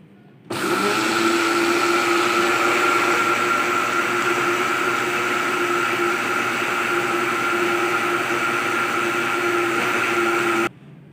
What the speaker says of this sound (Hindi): चीनी और अंडों को हमने अच्छे से ब्लेंड कर लिया है।